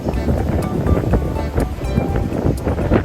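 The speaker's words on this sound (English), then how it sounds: "Those are some pretty gnarly waves out there." Ocean waves crash against a rocky coral shoreline on Hawaii's Big Island, a steady roar of surf with gusting wind buffeting the microphone, continuous and fairly loud throughout.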